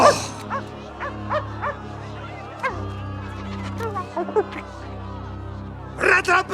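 A dog barks in short bursts at irregular intervals, with a louder cluster near the end, over a low steady hum and other background sounds.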